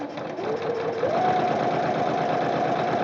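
A sewing machine runs steadily, stitching across a thread leader before fabric is fed in, its motor hum rising slightly in pitch after a second and then holding a continuous, close, moderately loud whir with no talking.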